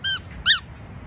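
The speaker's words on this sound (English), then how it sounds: "Dogs love the squeaky ball" A squeaky rubber dog toy ball gives two short, sharp, high squeaks in quick succession, close and alone.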